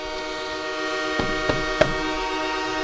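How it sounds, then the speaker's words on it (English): Sports radio train horn sound effect: a loud, sustained multi-tone horn blast held steady throughout, with a few sharp clanks layered in near the end. "we're never blowing the train horn again"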